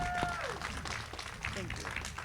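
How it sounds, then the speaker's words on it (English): Audience applause at the Berkeley City College 2025 graduation ceremony, a steady wash of clapping from a large crowd with cheers and whistles rising above it and voices mixed in. "Let's give them another round of applause."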